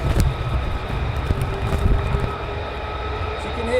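A fighter jet engine spools up on the ground at RAF Lakenheath after hot-pit refuelling: a steady, fairly distant roar with a thin whine, under blustery wind noise, with no voices.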